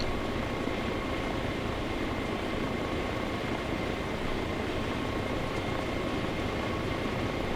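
The Little Bird helicopter in a video game drones steadily in an unbroken, dense engine and rotor roar from inside the cabin, with no voices heard.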